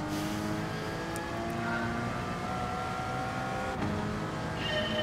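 A race car in Gran Turismo on PS4 drones at steady high revs, its tonal engine whine shifting pitch slightly as it presses on through a corner, with no voices.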